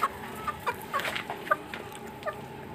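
Hens on a home poultry yard cluck in short, irregular bursts, fairly close, with soft background ambience and no talking.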